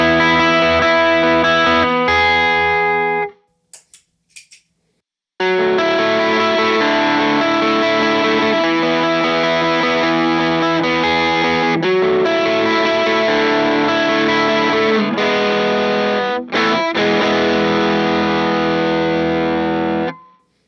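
Electric guitar through a Timmy overdrive pedal, lightly driven chords sustaining close and loud, with a short pause of scattered plucks near the start and a few quick chord changes later; no talking.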